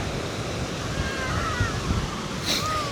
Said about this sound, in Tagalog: Laki ng wave oh.